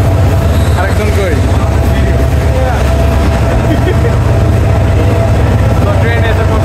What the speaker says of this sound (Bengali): তো ট্রেন এসে পড়ছে, ট্রেনের সামনে।